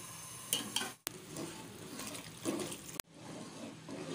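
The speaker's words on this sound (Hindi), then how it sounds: "अब हम इसमें आटा लगा रहे हैं नहारी को गाढ़ा करने के लिए। और हम थोड़ी देर तक आप चम्मच चलाएंगे" Chicken nihari thickened with flour while a spoon stirs the pot, soft scraping and clinks over a bubbling simmer, interrupted by two abrupt cuts, no voices.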